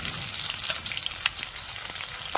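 Black cumin, dried chillies and crushed garlic frying in hot oil, a close, bright crackling sizzle with a few sharper pops, steady and alone.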